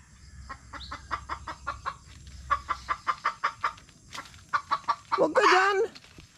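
Chickens cluck in a run of short, evenly spaced clucks close by, followed by a brief louder squawking burst near the end, over a quiet outdoor background.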